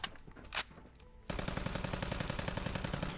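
Fallout 4 gameplay with the New Vegas service rifle: a couple of isolated loud shots, a brief lull, then a sustained rapid-fire stream of close gunfire running to the end.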